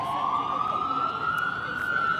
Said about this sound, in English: I think an ambulance is trying to pass by.